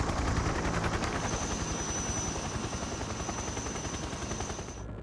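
A helicopter in the video game Metal Gear Solid 3 gives off a loud, steady rotor drone with rapid chopping pulses, holding constant before it cuts out abruptly at the very end.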